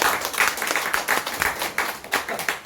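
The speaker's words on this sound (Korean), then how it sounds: "박수 한번 주시죠." An audience at a talk on IPFS, Filecoin and DDS gives a short round of applause, loud and close, with the individual claps pulsing in a choppy rhythm.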